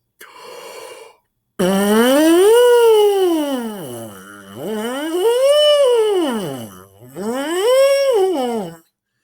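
A euphonium mouthpiece buzzes in repeated sliding sweeps, pitch rising and falling like a siren, loud and close, with short pauses between sweeps.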